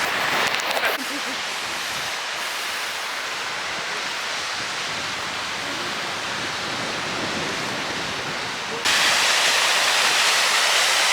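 A waterfall in Scotland roars with a dense, steady rush of falling water, close and loud throughout, with a brief rumble at the start and a brighter, harsher wash toward the end.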